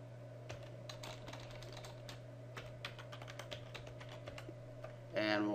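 Keys clatter in quick irregular bursts as a password is entered on a computer keyboard, a soft close tapping over a low electrical hum, ending with a brief louder noise.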